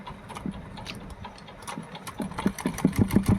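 A sewing machine stitches a salwar with a close, whirring motor hum and rapid needle pulses that quicken and grow louder toward the end.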